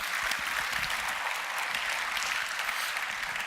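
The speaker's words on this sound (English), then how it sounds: "this is your applause" An audience at a startup hackathon pitch event applauds the winners, a dense, steady wash of clapping that carries on loudly throughout.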